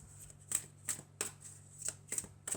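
Tarot cards being handled and shuffled on a table, a series of crisp papery riffles and slaps repeating at a quick, uneven rhythm, close and fairly quiet with no speech.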